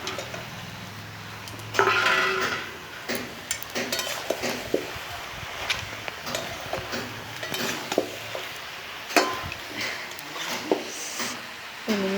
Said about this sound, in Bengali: এবার আমি কিন্তু মাছের মাথাটা দিয়ে দেব, তাহলে মশলার সঙ্গে ভালোভাবে কষানো হবে